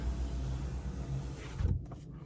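Power windows on a BMW M2 Competition closing, a steady low motor whir heard from inside the car that ends with a soft thump as the glass seals.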